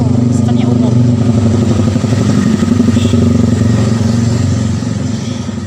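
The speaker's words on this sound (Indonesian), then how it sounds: "Maaf ya keganggu sama suara motor." A motorcycle engine rumbles loudly and close by, steady with a slight rise before fading toward the end, while a person speaks over it.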